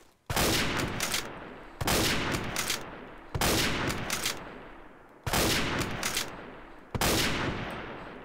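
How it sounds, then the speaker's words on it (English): A Springfield sniper rifle fires in Garry's Mod, five loud, sharp single shots spaced about a second and a half apart, each ringing with a lingering echo tail, no voices. "Just a Springfield sniper rifle."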